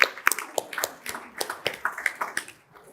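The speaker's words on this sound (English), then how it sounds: "I want to give you a round of applause" An audience at a school board meeting claps, a thin scattering of sharp, uneven hand claps that fades out after a few seconds.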